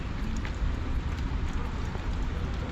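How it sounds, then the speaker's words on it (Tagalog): Steady rain falls in Baguio, a dense, even hiss of drops that runs without pause from start to finish, close and fairly loud, with no clear voices over it. "Umuulan dito sa Baguio."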